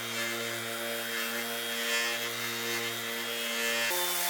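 A DeWalt DCW210 orbital sander polishing aluminium at its lowest speed gives a steady, close, high-pitched whir with a sharp pitch drop near the end.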